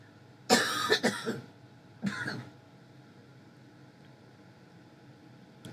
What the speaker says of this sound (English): Hang on, I got a cough again.